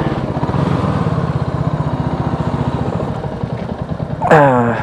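Motorcycle engine running steadily up close as the bike rolls into parking at a restaurant and lodge during an Arunachal Pradesh ride, a loud, even, pulsing mid-pitched thrum, ending in a brief rising whine.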